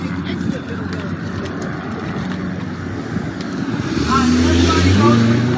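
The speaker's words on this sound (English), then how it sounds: "Watch this car." A car passes on a street during a night of civil unrest, its engine and tire roar swelling louder toward the end over a constant noisy crowd background.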